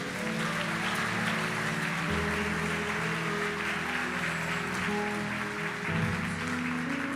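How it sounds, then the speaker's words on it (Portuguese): A church congregation applauds steadily throughout, a dense wash of clapping over sustained low organ or keyboard chords, with no spoken voices. "Aplauda Jesus."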